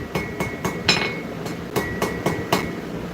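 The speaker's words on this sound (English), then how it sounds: "Go back to the 2 Basterds hammer and just start rounding this." A forging hammer striking hot steel to round it, a regular series of ringing blows, about ten evenly spaced metallic hits close by in a workshop.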